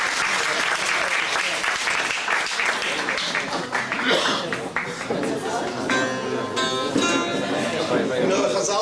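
Audience clapping along at a memorial gathering, with steady rhythmic applause from a crowd that holds throughout while a voice speaks over it.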